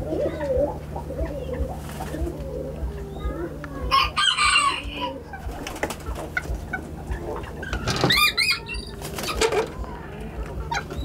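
A Serama rooster crows and clucks nearby in a backyard setting, with several sharp, bright calls and softer clucks at irregular intervals over a steady low hum.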